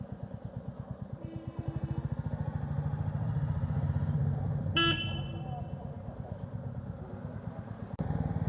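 Royal Enfield Classic 350 motorcycle riding along a service road, its steady thumping engine rumble continuous and close throughout, with a short horn toot midway.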